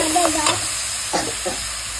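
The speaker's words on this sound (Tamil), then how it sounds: "இப்போ இஞ்சி பூண்டு பேஸ்ட் போட்டுக்கலாம். வதக்கிட்டு குக் ஆகணும், அதனால நல்லா வதக்கணும்." Mutton with ginger garlic paste being stirred and sautéed in a pan, soft sizzling under a few scraping strokes of the spatula, fairly quiet and close.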